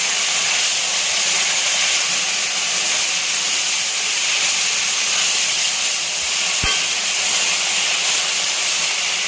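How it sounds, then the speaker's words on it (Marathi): Fenugreek leaves sauté in hot oil with an even, unbroken hiss and sizzle, close and fairly loud, broken only by a single faint knock. "दोन मिनिट फक्त तेलावर परतून घ्यायची नरम होईपर्यंत फक्त"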